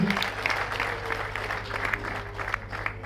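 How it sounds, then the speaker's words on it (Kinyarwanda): Guests clapping at a Rwandan wedding reception, a lively spread of applause under a steady background hum, with a few voices murmuring in the crowd. "Nibimera abateraniye hano bagukomera amashyi"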